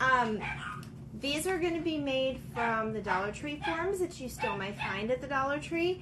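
Dogs indoors bark and whine with yipping, pitched calls throughout, heard at moderate distance beneath a person talking steadily.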